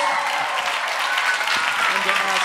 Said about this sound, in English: Give our new minis another big round of applause.